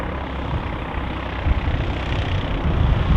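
At Manchester City Airport under overcast skies, an aircraft engine produces a steady rumbling drone that swells slightly toward the end. The sound is heard alone, without talking, and stays constant over about three seconds.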